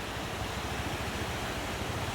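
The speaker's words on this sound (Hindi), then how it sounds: "इधर से खौफनाक पानी जा रहा है" Powerful rushing river water roars steadily beneath a bridge, a loud, continuous turbulent noise filling the brief clip without speech.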